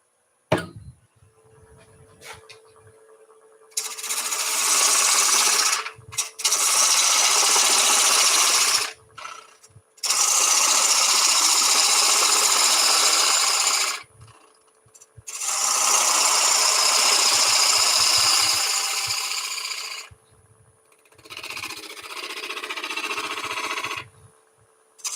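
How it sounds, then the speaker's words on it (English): A wood lathe runs while a 1/4 inch bowl gouge turns a bowl's foot, giving bursts of loud, broad hissing cuts separated by pauses, with the motor's steady hum audible between passes. "Lathe speed to 0, turn the lathe on, then turn the speed up"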